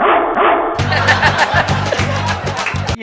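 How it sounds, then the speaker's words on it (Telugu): A dog barks in a run of short, loud, repeated yaps and bow-wows, recorded on a set during a televised Jabardasth comedy skit, with voices nearby. "అన్నపూర్ణ స్టూడియోలో కుక్క తప్పింది"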